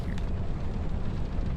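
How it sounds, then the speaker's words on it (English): A deep, rumbling burst from an enemy dying of poison in Dark Souls 2, a dense low roar with a rough, noisy texture that fills the short moment at a steady level. "That was the sound of an enemy who just died to poison."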